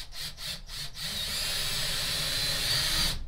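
A power drill driving a screw into a wooden wall stud while a storage shelf is built: a few short trigger pulses, then one steady, loud, close whine that stops abruptly near the end.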